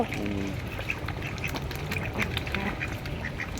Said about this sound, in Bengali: আর হাঁসগুলো দেখো ওই দেখো ওই দেখো খাবার খেয়ে নিচ্ছে